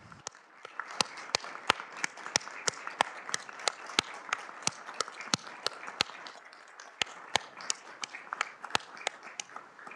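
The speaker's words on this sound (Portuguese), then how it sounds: "Todos aplaudem de pé" A standing ovation fills the Supreme Court plenary chamber during a tribute ceremony, with sparse, sharp individual claps ringing out at a fairly steady pace over a soft bed of lighter clapping, moderately distant and without speech.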